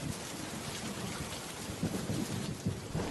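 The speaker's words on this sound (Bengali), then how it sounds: "কতদিন পর বৃষ্টিতে ভিজছি" Heavy rain with rumbling thunder over a village, a close, dense hiss of downpour pattering on surfaces with low thunder swells rising through it, with no voices.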